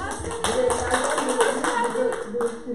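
Clapping from a small group at a Turkish literature talk, a dense run of close hand claps at fairly loud level lasting throughout, with faint voices mixed in.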